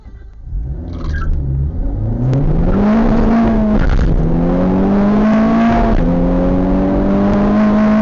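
A Honda Civic Type R accelerating hard through its gears, the engine note climbing in pitch, dropping at each shift and climbing again, loud and sustained after a quieter start, with no voices.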